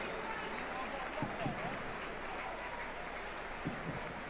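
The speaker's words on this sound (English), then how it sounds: "coming off for a round of applause from the Tranmere faithful" Steady crowd applause from a football stadium during a Tranmere Rovers v Leyton Orient match as a player is substituted, broad and continuous, with a commentator talking over it.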